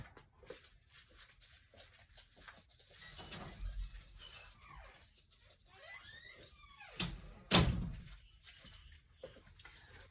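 A house door opens to let a dog out: soft shuffling and pattering, a dog's faint whimpers, then one loud, sharp clunk of the door near the end before things quiet down.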